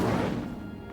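In Hogwarts Legacy, the Incendio fire spell bursts out as a single loud, close whoosh and crackle that fades quickly within a second.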